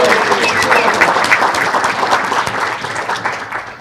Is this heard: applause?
yes